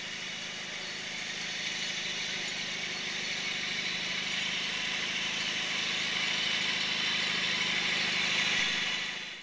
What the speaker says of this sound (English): running the lawn sweeper, and it's picking up pretty good